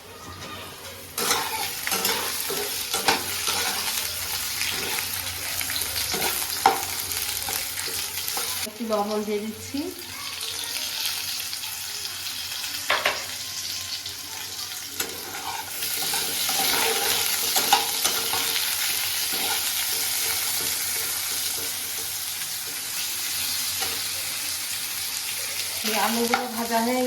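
Potatoes frying in oil in a pan, a steady close sizzle with occasional stirring and scraping, someone speaking briefly over it.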